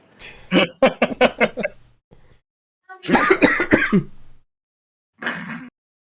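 Several harsh, choking coughs and throat-clearing bursts in quick clusters, loud and close, with pauses between the fits.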